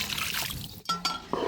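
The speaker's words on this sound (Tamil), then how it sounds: "மசாலாவை அப்படியே தண்ணி ஊற்றி அலசி அதையும் சேர்த்துக்கிறேன்." Water poured from a vessel to rinse leftover ground masala into a pot of Aravakurichi-style chicken curry, using well water, giving a short, close trickle and splash in a few brief bursts.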